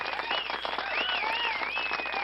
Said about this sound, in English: I'll give you some claps.